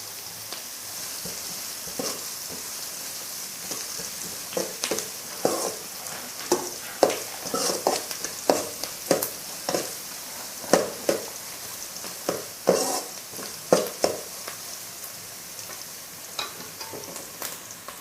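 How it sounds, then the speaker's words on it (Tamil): Onion and garlic sizzle in hot oil in a pan for appalam kuzhambu, a constant frying hiss broken by frequent scraping stirs of a spoon, close and with no talking. "எண்ணெயில் நல்லா வெங்காயமும் பூண்டும் வணங்கட்டும்."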